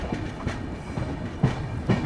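Passenger express train pulling out of Satna Junction station, hauled by a WAG-12 locomotive, with ICF coaches: steady low rumble and rhythmic wheel clatter over rail joints, close and continuous, no talking.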